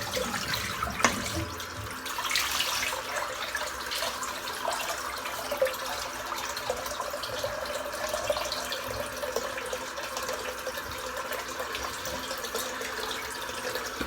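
Running tap water pours steadily into a bathroom sink during a head shave as a razor or head is rinsed, a continuous close splashing hiss with no talking.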